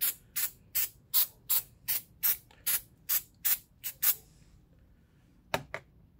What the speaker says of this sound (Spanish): voltean de esta manera el sensor de detonación y también le rocían el limpiador de contactos eléctricos